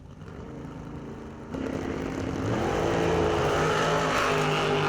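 Dragster race cars launch and accelerate down a drag strip at Numidia, a loud engine roar that swells sharply partway through and holds at full volume, with no talk.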